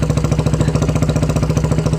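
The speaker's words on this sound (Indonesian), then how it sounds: "Nah, nyala juga akhirnya. Suaranya blar-blar juga ya, mantap." A modified Kawasaki W175 chopper bobber motorcycle engine runs with a deep, steady, rhythmic throb, loud and close, with a rough pulsing exhaust note.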